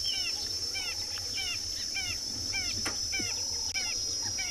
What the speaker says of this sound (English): Can hear all the ring-necked doves calling around us.